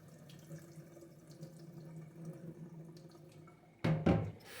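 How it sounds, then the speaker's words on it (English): Hands with tomato seeds on them washed under a running kitchen tap: a faint steady trickle, then a louder splash of water near the end, with no talking. "go ahead and get this washed up. I got tomato seeds on my hand"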